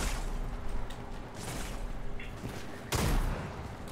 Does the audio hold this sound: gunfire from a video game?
yes